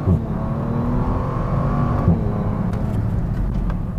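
A 2018 Bentley Continental GT with four-wheel drive accelerates hard out of a hairpin, its engine revving steadily and loudly close by with a brief gear change.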